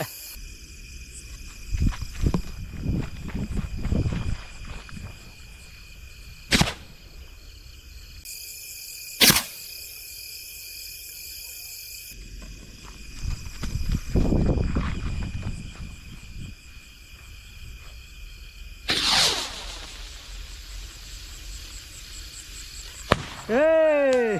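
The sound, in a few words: rocket firework launching and bursting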